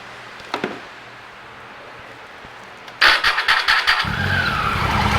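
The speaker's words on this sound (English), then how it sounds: "start it one more time just to listen to that sprag clutch or starter clutch down here" A Triumph Tiger 800XC motorcycle with a worn, noisy sprag clutch is started: a few faint ticks, then a loud rattling crank and clatter as the engine catches and settles into a rough idle.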